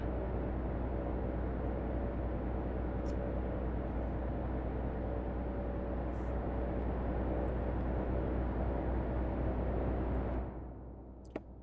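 A Cirrus SR22 piston engine drones in a flight simulator, a loud steady hum that runs unbroken for about ten seconds before cutting down to a quieter tail.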